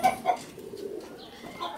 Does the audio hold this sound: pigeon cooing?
yes